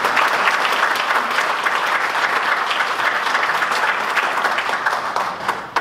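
An audience at a community debate claps loudly and steadily, dense continuous applause close by that tapers slightly at the end.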